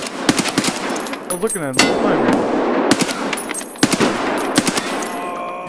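Gunfire in Escape from Tarkov: loud, close bursts of rapid automatic shots with metallic clangs, separated by brief pauses, while a person talks briefly between the volleys.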